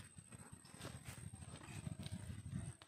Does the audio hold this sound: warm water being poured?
no